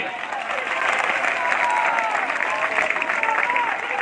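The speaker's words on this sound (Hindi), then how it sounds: "अरे तालियों की गड़गड़ाहट से" A political rally crowd breaks into thunderous clapping, a loud continuous wash of applause with some cheering and voices mixed in.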